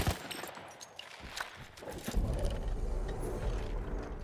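Rapid bursts of World War I machine-gun fire from an Austro-Hungarian gun emplacement on the Italian front in Battlefield 1, with sharp repeated reports at first that blur into a dense, steady rattle.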